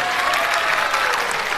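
Canned applause sound effect plays during a stand-up comedy act, a thick, steady wash of crowd clapping. It is loud and even for the whole brief burst, with no voice over it.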